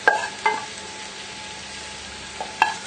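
Butter sauce and tagliatelle go into a steak pan, giving a soft, steady sizzle broken by a few light clinks of stirring, with no talking.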